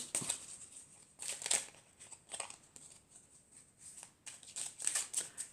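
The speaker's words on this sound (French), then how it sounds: "Je vais prendre encore une autre carte." Tarot cards being shuffled and drawn close up, soft papery riffles and slides in several short bursts with quiet gaps between them.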